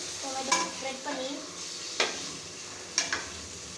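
Sliced tomatoes sauté in a pan while a spatula stirs them, giving a few distinct scraping strokes spaced about a second apart over a gentle background sizzle.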